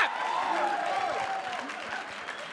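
Comedy club audience at Gotham Comedy breaking into applause, a steady wash of many hands clapping that eases slightly toward the end.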